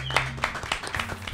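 Audience clapping at a cumbia concert welcoming a band onstage, a quick run of sharp, irregular claps heard briefly and fairly close.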